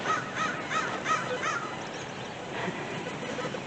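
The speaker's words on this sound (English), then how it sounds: "Oh, there's a crow back there." A crow caws several times in a row, harsh rasping calls near the start and again later, moderately distant over quiet outdoor background.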